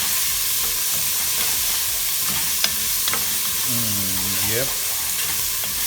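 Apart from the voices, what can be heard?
ginger browning, frying in a pan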